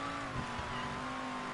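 A car's engine drones steadily in the Mafia 3 video game, a continuous mid-pitched motor hum with faint tyre noise, close and even throughout with no talking.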